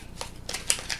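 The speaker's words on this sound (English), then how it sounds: "Shuffle all of these together" Railroad Ink game cards riffle-shuffled in a quick burst of crisp, fluttering snaps, close and alone, lasting about a second.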